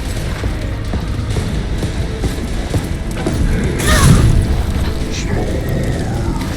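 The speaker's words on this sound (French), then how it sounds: "Hop, j'ai pris la grenade de plein fouet, c'est parfait." A video-game grenade explodes right on the player, a single deep boom that swells and fades over an ongoing background of crackling, rain-like game noise.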